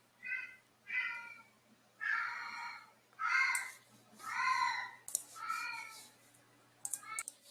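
A cat meows about eight times in close succession, loud and nearby, with faint keyboard clicks and a low hum in the background.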